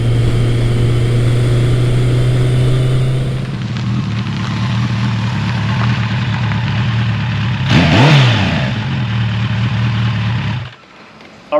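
A Kawasaki ZL900 Eliminator motorcycle engine droning steadily while riding on a road through fall foliage in Pennsylvania, with a rising rev and passing whoosh near the end before it cuts away; loud and close, no talk.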